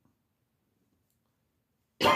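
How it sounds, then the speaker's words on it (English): A single sharp human cough bursts out suddenly at the very end after near silence, close and loud. "I was holding in that cough at the end"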